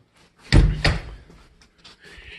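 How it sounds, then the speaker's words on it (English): A door is opened at an arrival point with two quick solid thunks close by, followed by faint rattling and light shuffling, and no voices. "and you can open this door"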